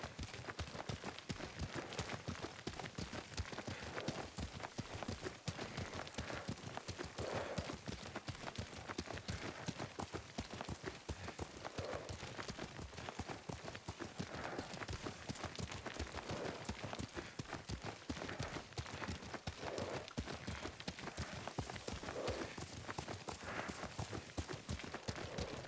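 Horse hooves clip-clop in a steady, fast rhythm while riding in the video game Ghost of Tsushima, a continuous near galloping patter with faint voices underneath.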